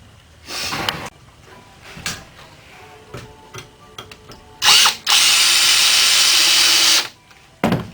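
Power drill driving screws to fix the legs onto a ready-to-assemble wooden Adirondack garden chair, with short bursts early on, then a loud close whine held steadily for about two seconds, plus scattered clicks and handling knocks.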